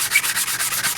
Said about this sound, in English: Now you're ready to do the sanding, but you want to get all your scratches out.